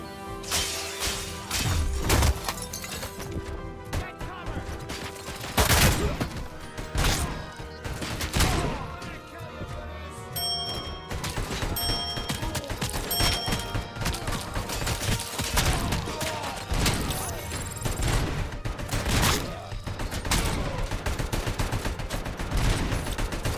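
Repeated gunfire in RoboCop: Rogue City, loud sharp shots and bursts struck in rapid succession with crashing and shattering impacts throughout, no talk.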